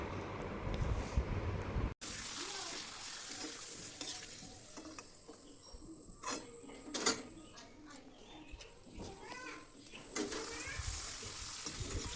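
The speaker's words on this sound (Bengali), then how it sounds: "তারপরে ছোটো করে কেটে তারপরে ভাজছি" Papad pieces fry in hot oil in a home kitchen with a bright, crackling sizzle and stirring scrapes, loud and close, while a voice is heard at times.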